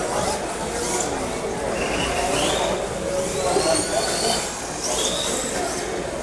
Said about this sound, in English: Here's Josh and Jordan of Team Rolling Garage and Team Hard Brake practicing some tandems.